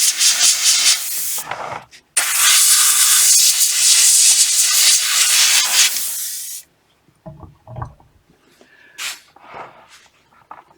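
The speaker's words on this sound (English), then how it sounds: "this is where the airbrush comes in handy. Just the airflow, just to dispose of" Airbrush blowing plain air across a weathered model locomotive's running plate to clear excess soot and ash pigment, a loud steady hiss in two long bursts with a short gap, then fading to faint scattered taps and rustles.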